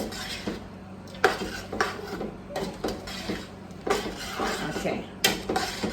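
Vegan ackee stirred in a pot, with repeated clinks and scrapes of a utensil against the pot at an uneven rhythm, close by and without talking.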